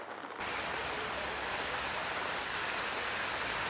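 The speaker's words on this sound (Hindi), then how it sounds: "जितेंद्र, क्या चंडीगढ़ ने पहले इस तरह की भारी बारिश देखी है?" Heavy rain pours down in Chandigarh as a dense, loud, unbroken hiss that starts abruptly and holds steady throughout.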